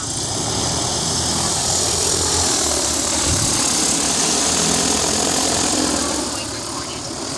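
A drone spreading hay seed outdoors runs its rotors with a constant, close, buzzing whine over the whole stretch, loud and unbroken, with faint voices in the background.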